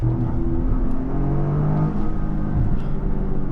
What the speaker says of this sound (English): you are gonna hear all those good turbocharged noises